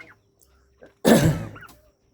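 A single short, raspy squawk from a hen in a home egg-farming coop, recently put in and still wet, close by and otherwise quiet.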